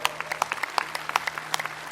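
An audience at a power yoga session claps in scattered, uneven bursts, moderately near, over a faint steady hum.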